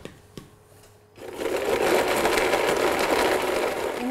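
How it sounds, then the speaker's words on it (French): A blender purées mango pieces with a little water into a coulis, starting after a quiet second and then running as a steady, loud, dense whir to the end. "il suffit de mixer les morceaux de mangue avec un petit peu d'eau et mixer jusqu'à obtenir la consistance voulue"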